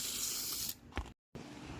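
A clogged paint spray gun, one nozzle blocked, spits and splatters paint with a harsh continuous hiss, sputters, then cuts out briefly before hissing again.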